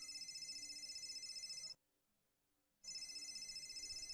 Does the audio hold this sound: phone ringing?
yes